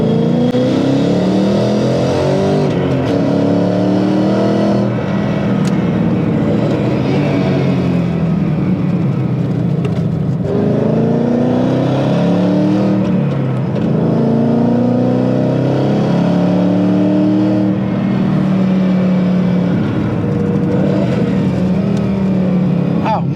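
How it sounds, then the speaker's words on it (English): A hard-used 2018 HPDE track car's engine revs and pulls through repeated heel-toe rev-matched downshifts, with rising and falling engine tones and sharp blips heard from inside, loud and continuous, with someone talking over it. "Trying to heel toe and downshift this car"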